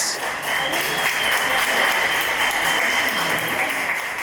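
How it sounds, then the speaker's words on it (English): An audience at a talk on verbal film pitching claps steadily in a dense, even round of applause that holds for several seconds. "Let's give a round of applause to Odet."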